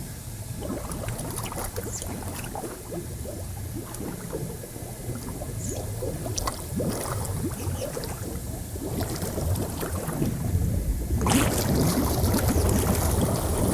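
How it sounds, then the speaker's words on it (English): Churning, rushing water from built-in hot tub air bubble jets, with a dense bubbling roar that builds and grows louder toward the end, no voices. "All right, it's working. All the bubbles are working."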